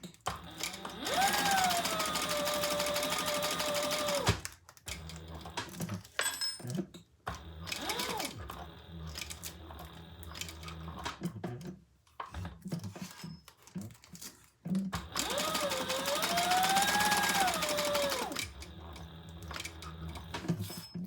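A sewing machine stitching loop tape onto a fabric traveler pouch, two long bursts of rapid, whirring stitching with rising and falling motor pitch, separated by shorter runs and quiet handling pauses, close and clear.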